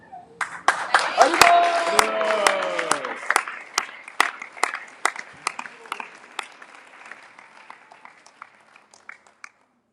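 Round of applause from a devotional audience at a Sunday feast gathering in a temple hall, dense clapping that swells early then thins into scattered individual claps fading over ten seconds.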